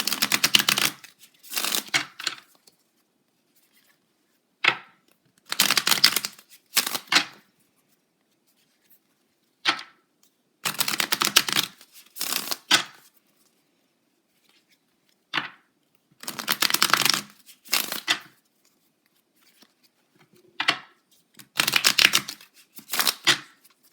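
Tarot cards being shuffled in a dozen or so quick riffling bursts, each a second or two long, separated by short silences in a steady stop-start rhythm, close and crisp with no talking.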